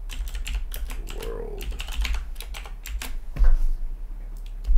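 Fast typing on a computer keyboard, with steady clusters of key clicks and a few heavier strokes as text is entered in Notepad; close and alone, with no talk.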